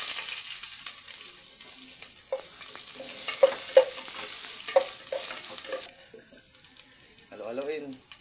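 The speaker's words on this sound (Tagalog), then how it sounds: "Gayang butang na to ang sibuyas." Sliced onion fries in a pan for a noodle soup, giving a bright, steady sizzle with stirring clicks. The sizzle drops off near the end as a voice briefly speaks.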